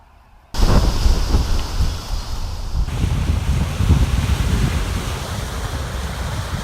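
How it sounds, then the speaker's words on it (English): Waves crash steadily against a shoreline whipped by a strong north wind, a loud continuous roar of surf mixed with gusty wind buffeting the microphone, with no voices. "The water was just crashing into the shoreline."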